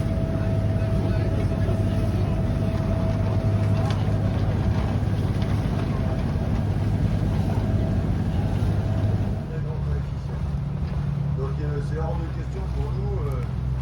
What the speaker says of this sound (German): Schnellboote sausen an uns vorbei, die Besitzer haben es eilig.